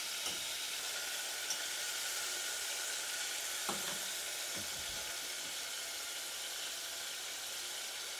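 Steady frying sizzle of beef for bistek Tagalog in hot oil, a constant hiss punctuated by a few soft clinks, with no talking.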